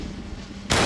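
A gun fires once at a Firefight body shield, a sudden loud blast near the end that follows quieter background murmur.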